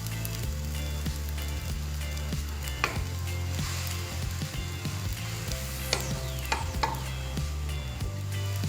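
Glass noodles and cabbage stir-fried in a pan, a continuous hiss of frying under rhythmic spatula scrapes and taps that pick up toward the end.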